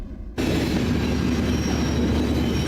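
Freight train rolling along tracks through central Winnipeg, a loud, steady rumble of rail cars that starts abruptly and continues without a break, with faint wheel squeal mixed in.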